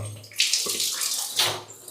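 Leafy greens rinsed under a running tap, a steady hiss of splashing water with a couple of louder gushes, close and continuous with no talking.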